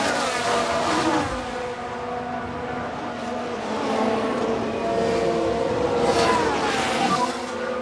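F1 Manager 22 race cars in a 1993 Jordan season race give a continuous whine of high-revving engines, with overlapping pitches rising and falling as cars pass, loud and sustained throughout.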